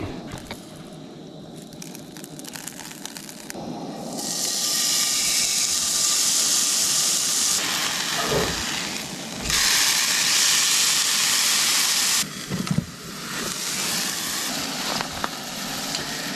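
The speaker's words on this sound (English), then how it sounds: "I just got this burner started" A camping stove burner roars with a steady close hiss, swelling louder in stretches and dipping briefly, on a cold night beside a river.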